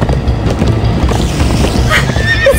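Horses in the Minecraft: Story Mode video game gallop with rumbling hoofbeats under a loud game soundtrack, and a short whinny rises near the end.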